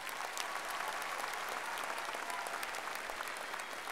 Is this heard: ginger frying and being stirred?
no